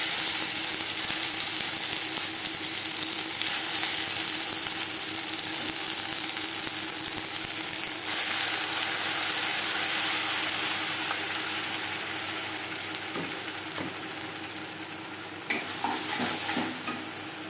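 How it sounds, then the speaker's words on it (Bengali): Filling for stuffed kakrol (spiny gourd) sizzles and fries in mustard oil while being stirred in a pan, a steady close hiss with scraping stirs that eases slightly toward the end, with a few brief clinks. "পুর তৈরি করব সরষের তেলে, কাঁকরোল ভাজবো রিফাইন্ড অয়েলে"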